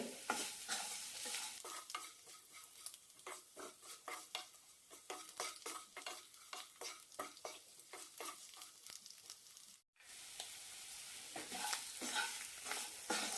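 Ground spice masala roasting in hot oil for egg roast, stirred steadily with a utensil, giving repeated scraping strokes over a constant sizzle with a brief pause near the end, close and alone.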